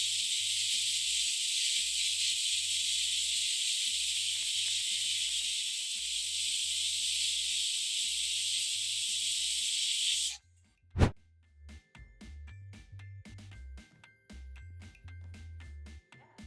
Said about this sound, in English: I'm going to wait for my chickpeas to boil until tender